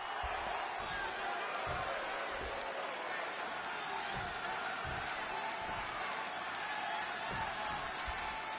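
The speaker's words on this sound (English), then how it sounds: "just listen to this crowd here in Chicago" A steady, faint roar from the crowd at a WWE 2K26 wrestling match set in Chicago, a continuous wash of arena noise with no single voices standing out.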